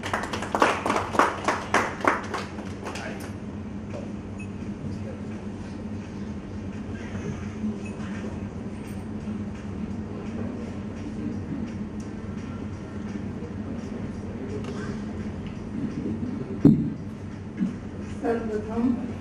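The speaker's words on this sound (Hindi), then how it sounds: "तो बहुत ही स्वागत तालियों के साथ करें श्रीमती मधु शुक्ला जी का।" A few seconds of audience clapping at a Hindi poetry gathering welcome a woman poet, quickly settling into quiet room tone and low murmur, with a couple of sharp knocks later on.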